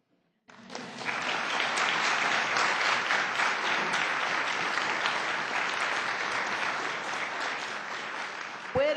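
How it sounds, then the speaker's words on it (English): An audience at a lecture on post-conflict democratic consolidation breaks into loud, sustained applause, dense clapping starting abruptly and holding steady for several seconds before a voice returns. "Let us applaud."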